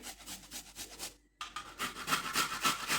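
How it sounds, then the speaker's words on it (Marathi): Whole raw amla (Indian gooseberries) being grated by hand, giving a close, rhythmic rasping scrape in repeated strokes with a brief pause partway through. "तर हे अख्खे आवळे कच्चेच आपल्याला असे खिसून घ्यायचे"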